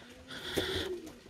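Young homing pigeons in a pigeon loft give a single soft, close coo with a low throaty tone, heard alone without talk.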